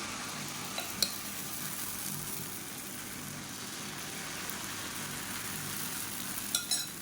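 Kuthiraivali millet dosa batter cooks on a hot pan with a faint, steady low sizzle, a soft background hiss running evenly with a couple of small clicks.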